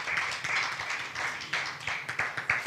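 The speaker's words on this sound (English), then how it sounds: "A round of applause for the panelists." A conference audience at a regional dialogue on domestic resource mobilisation in the East African Community claps for the panelists, a fairly close, moderately loud round of applause with distinct individual claps pulsing through it.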